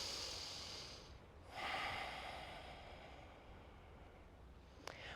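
Slow, deep nasal breaths during a flowing yoga session, a long soft inhale-exhale with airy hiss, fairly close and quiet, with no talking.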